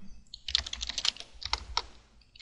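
Rapid close clicking of keys on a computer keyboard, a quick burst of typing with a short pause midway, no voices.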